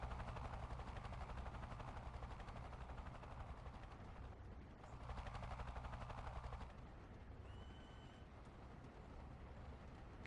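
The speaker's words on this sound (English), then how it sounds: "Chopper inbound from the north." A helicopter in the video game Delta Force 2, its rotor thumping as a dense, continuous rumble layered with rapid gunfire-like pulses, holding steady and loud throughout with slight surges midway.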